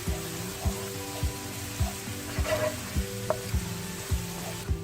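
Chopped ginger and garlic fry in half a cup of oil in a pan, giving a steady close sizzle with regular soft clicks of stirring.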